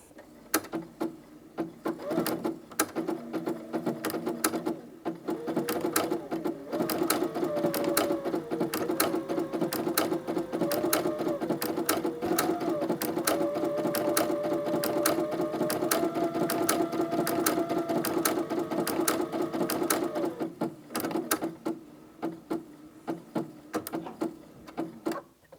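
A sewing machine stitches a fabric panel with its feed dogs moving the cloth: a steady, close, rapid mechanical chatter running for most of the stretch, with faint hum and no talk.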